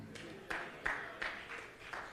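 A church congregation claps in faint bursts at a steady rhythm, about one clap every third of a second, with low murmuring underneath.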